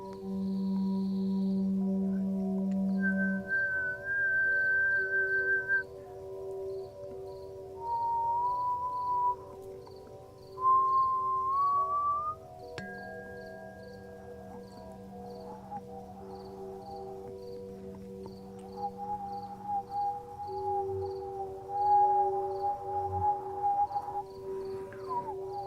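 A person whistles a series of sustained, gliding pitched tones, some held steadily and some sliding upward, over a continuous low drone during a live sound healing session with native flutes.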